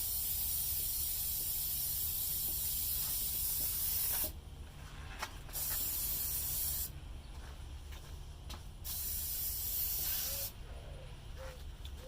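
A Krylon Crystal Clear acrylic coating spray can sealing an acrylic pour painting, long loud close hissing blasts separated by brief pauses, four bursts in all, with no talk.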